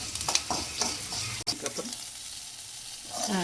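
Turkey berries (sundakkai) being stir-fried in a pan, with a steady sizzle and repeated scraping strokes of the spatula, close and fairly loud throughout, briefly interrupted by a sharp clack.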